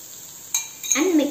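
A spoon gives a quick clink against a pan, followed by soft scraping as kova mixture is stirred with ghee; it is brief, close and quiet.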